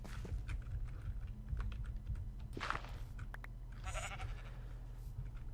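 Blocky game sheep in Minecraft bleat a few times over constant background ambience and rapid keyboard typing, with brief bursts of bleating standing out near the middle and end.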